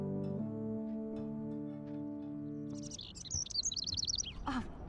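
A bird trapped indoors in Life is Strange lets out a quick run of high, bright chirps, close and clear, after a sustained tonal game sound fades out.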